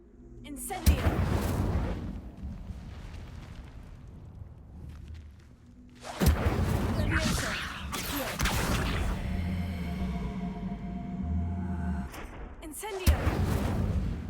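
An Incendio fire spell in a wizard video game, cast repeatedly as bursts of whooshing, crackling flame with booming onsets, separated by quieter stretches. A voice speaks between the bursts.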